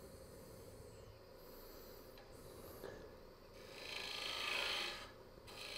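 A tool scrapes and rasps against a walnut bowl as its tenon is removed on a woodturning lathe. The faint, continuous rubbing swells louder near the end.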